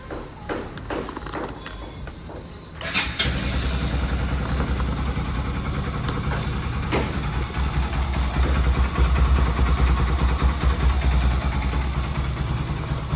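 A 200 cc motorcycle engine, an RS200 fitted with a slipper clutch, starts and settles into a loud, steady idle with a throbbing low rumble that holds for the rest of the clip, preceded by some brief mechanical clatter.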